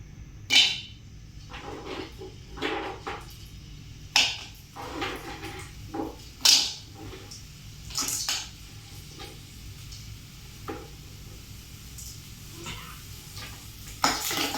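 Pieces of asafoetida fry in hot oil in a pan over low heat, a soft steady sizzle broken by sharp spatula scrapes and clinks against the pan.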